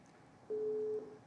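Steady telephone busy tone from a dropped call-in line on a live radio medical phone-in, a single sustained beep of about half a second over quiet room noise, with no talking.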